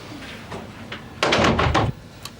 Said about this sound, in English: Yes, close the door, Kevin.